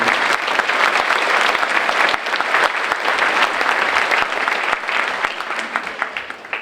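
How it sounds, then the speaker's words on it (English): An auditorium crowd gives steady, dense applause for commission members at a memorial brick dedication, loud and unbroken for several seconds, easing slightly toward the end. "please join me in a round of applause for our commission members"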